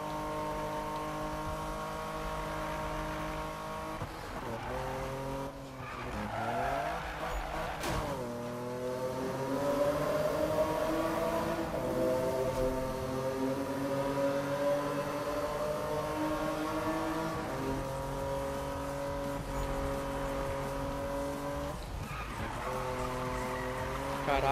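Car drifting with screeching tires in Need for Speed (2015), the engine droning and rising in pitch through a long uphill slide, loud and continuous with brief gear-shift dips, no voice over it.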